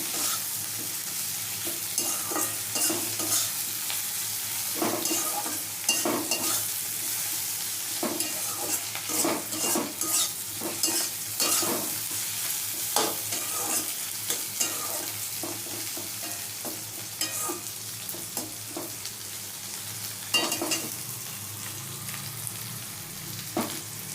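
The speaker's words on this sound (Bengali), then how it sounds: "ভালো করে ভেন্ডির সাথে মিশিয়ে নিচ্ছি।" Okra mixed with cumin powder and a little sugar is stirred and fried in a pan, giving a continuous soft sizzle broken by repeated scraping strokes of the spatula.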